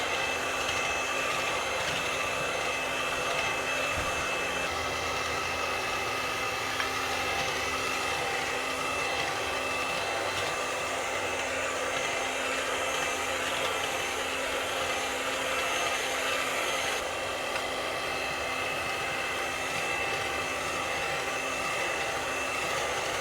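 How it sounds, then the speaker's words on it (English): An electric mixer whisks eggs into shortbread dough for fig jam shortbread, a steady loud whirring drone held unbroken, close by and alone. "you add one egg at a time and you whisk away"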